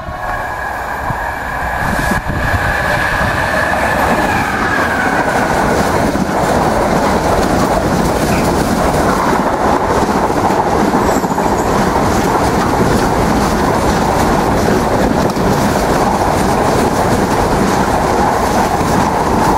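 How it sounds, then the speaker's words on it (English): A freight train on the line through Banbury rumbles past in a loud, steady roar of wagons and rolling wheels, with faint clickety-clack, continuing unbroken for the whole stretch with no talking. "Oh. Freight as well."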